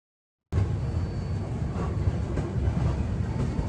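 The HAPA Jamnagar Express pulls out of Udhampur station. A low, continuous rumble of the moving train, heard from inside, starts abruptly after a brief silence and holds steady.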